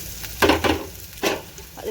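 Onions fry in a pan for egg podimas, a close, crackling sizzle that is broken by several bursts of stirring and scraping, with no voices.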